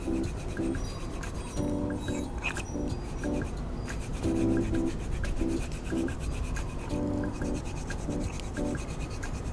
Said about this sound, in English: you can just rub lightly and then let it dry and then rub lightly again